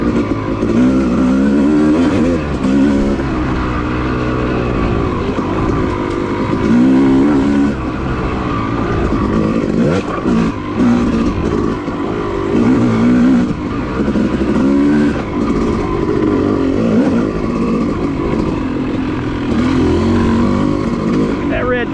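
A dirt bike on OHV trails in Enoree revs and surges continuously, loud and close, with wind and throttle changes throughout and a rider's voice heard over the engine.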